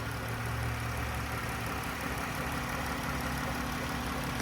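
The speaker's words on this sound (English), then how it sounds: "As you can tell, nice and smooth running engine, no odd noises or vibrations." The 3.6-liter V6 of a 2014 Dodge Grand Caravan idles in the engine bay with a smooth, even, low hum, steady and fairly quiet, with no voices.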